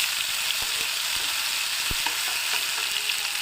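Green chili, garlic and cumin paste sizzles steadily in hot oil while sautéing for fenugreek bhaji, a continuous close frying hiss with a few soft stirring clicks and no talk.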